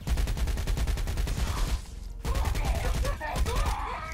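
Rapid automatic gunfire rattles in bursts in the video game Saints Row 4, with a brief pause before more shooting resumes amid other game effects.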